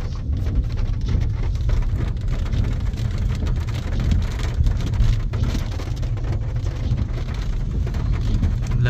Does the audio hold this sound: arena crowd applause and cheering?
no